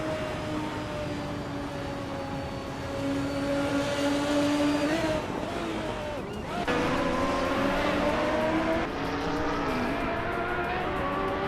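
GT1 and retro DTM race cars lap a circuit in a racing video game, engines whining and shifting pitch as they pass, steady and moderately loud, with a voice talking over the track noise.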